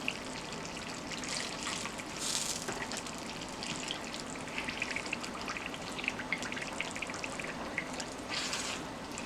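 Liquid poured into a pot of frying meat and malanga coco, giving a soft steady trickle and sizzle with brief splashy bursts, quiet and close.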